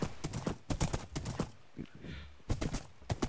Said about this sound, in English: Yeah, this horse is fast.